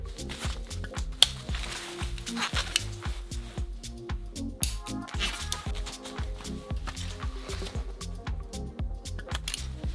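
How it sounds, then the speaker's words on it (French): Wires of a stripped cable being tightened into the terminals of an electrical socket for an electric car charging setup, a dense run of close, small clicks, creaks and scraping taps repeating steadily throughout. "on le place tout simplement dans la prise, dans les bornes de la prise, et on vient serrer"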